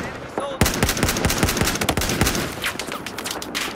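Rapid gunfire in the Battlefield 4 video game, dense bursts of close automatic shots with overlapping distant reports, loud and continuous across the clip.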